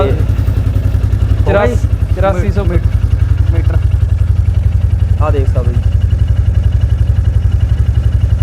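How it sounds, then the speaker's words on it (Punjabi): A Royal Enfield Bullet motorcycle engine idles nearby with a deep, even thumping beat that never lets up, while someone talks over it. "ਬੁਲਟ ਦੀ ਪਹਿਲਾਂ ਆਵਾਜ਼ ਚੈੱਕ ਕਰ ਸਕਦੇ"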